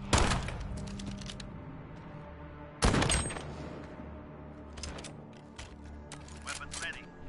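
Shotguns fire in a video game in loud, sharp blasts. One heavy burst opens the passage and another comes near the three-second mark, with smaller shots and game noise scattered between them and voices present throughout.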